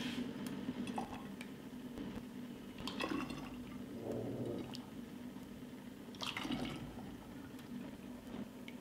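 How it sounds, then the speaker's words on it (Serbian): Hot homemade juice is poured into bottles sterilized in an oven, a steady liquid fill with gurgling surges and a few clinks of glass, fairly quiet and close, with no talking. "sada ovako vreo sok odmah sipamo u flaše"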